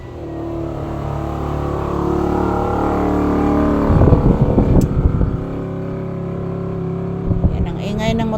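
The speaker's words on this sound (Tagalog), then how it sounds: "Yan ang ingay ng motorsiklo na dumadaan guys, yung tricycle." A motorcycle tricycle passes by outside a small shop, its engine rising to a loud, rough drone as it goes past close, over wind noise, with a few knocks and rattles nearby.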